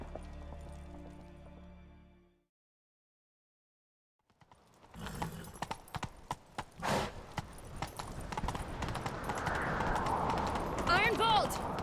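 In a Witcher 3 game scene, a horse's hooves clop and gallop in a rapid, irregular rhythm after a brief silence, close and moderately loud amid rushing game ambience and voices.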